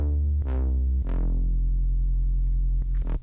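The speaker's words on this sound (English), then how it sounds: "I think I've just made some kind of basic patch in operator." A basic Ableton Operator bass patch, sawtooth with chorus, playing a few heavy sustained notes, each opening with a sweeping filter swell, loud and alone.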